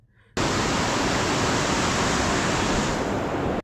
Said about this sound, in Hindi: जल के प्रवाहित होने की तेज ध्वनि सुनकर अच्छा लगता है